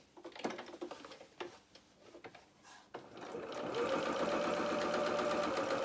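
A sewing machine runs a seam on trouser fabric: a few short stop-start bursts of stitching, then a faster continuous mechanical whirr with rapid needle ticks, close by and moderately quiet, with no talking.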